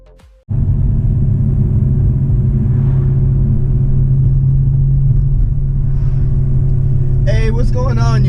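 A BMW E92 M3 coupe cruising along, its engine a steady, loud low rumble filling the cabin from start to finish, with a brief whine-like rise near the end.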